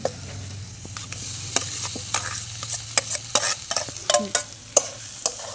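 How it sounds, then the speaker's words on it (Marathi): Potatoes with turmeric being stirred and sautéed in a pan: a steady low sizzle runs throughout, broken by frequent sharp spoon scrapes and clacks against the pan at an uneven rhythm, close and fairly loud, with no talking. "आता परतून घ्या."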